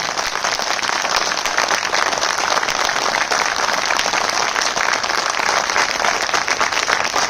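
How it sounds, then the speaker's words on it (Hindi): A crowd claps in loud, sustained applause that holds steady from start to finish, dense and continuous with no talk over it. "इस खुशी में एक जोरदार तालियां।"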